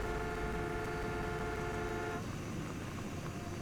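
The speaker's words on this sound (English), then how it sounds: "We're in a tank. Generic car horn." A generic car horn sounds from a tank in the video game Rage 2, a steady, sustained toot that holds for about two seconds and then cuts off into engine rumble.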